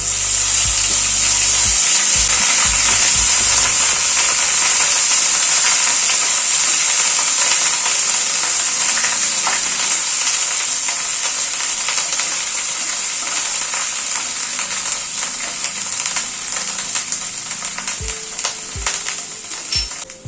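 Boiled onion paste hits hot oil in a pan, giving a loud, steady sizzle and crackle that holds throughout, with a few faint clinks near the end and no talking.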